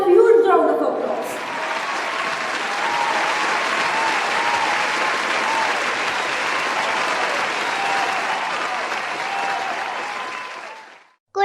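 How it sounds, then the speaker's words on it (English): A graduation ceremony crowd claps in sustained, dense applause that fills the hall at steady loudness for about ten seconds, then stops abruptly. "Please give them a huge round of applause."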